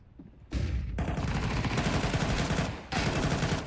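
Rapid gunfire from a professional Counter-Strike match between Astralis and Virtus.pro at PGL Bucharest 2025, loud dense bursts that start abruptly, pause briefly near the end, then resume, with no commentary over them.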